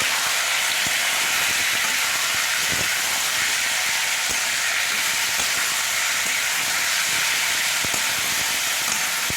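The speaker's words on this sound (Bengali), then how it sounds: "চিকেনটাকে এবার আমি এই রসুনের সাথে ভালো করে ভেজে নেব।" Chicken frying with garlic in hot oil sends up a loud, dense, unbroken sizzle and hiss, close by. Occasional faint clicks and stirring knocks sound beneath it, with no voices.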